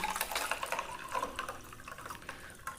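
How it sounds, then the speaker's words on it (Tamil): Water poured into a coriander chutney mixture, a close, quiet splashing and gurgling pour lasting a couple of seconds. "கொஞ்சம் தண்ணி ஆட் பண்ணிக்குவோம்."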